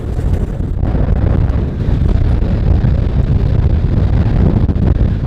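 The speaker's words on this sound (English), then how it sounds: "It's so freaking windy." Strong wind buffets the microphone outdoors on a street, a loud continuous low rumbling roar with gusty fluctuations and no talking.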